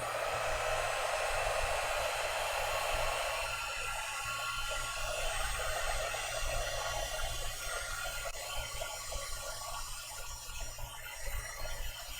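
A hair dryer blows steadily and loud for the whole stretch, drying chalk paste on a decorated fall sign, its airflow roar holding constant with slight shifts in pitch and no talking.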